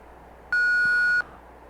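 Answering-machine beep from the point-and-click adventure game Thimbleweed Park: a single steady electronic tone lasting under a second, loud and clean against a quiet background hiss.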